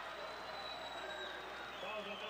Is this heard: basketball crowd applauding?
yes